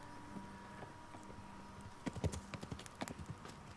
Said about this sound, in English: That horse is kind of zoomy.